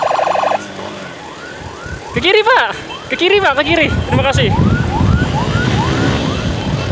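Ambulance siren from a Muiz hospital ambulance being escorted to Abdul Sarani general hospital, wailing in repeated rising sweeps under loud nearby talk and traffic noise, with short stronger yelp bursts in the middle.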